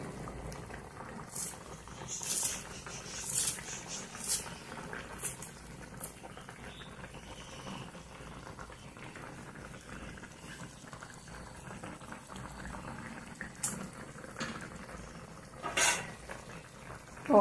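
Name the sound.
taro root curry simmering in a pot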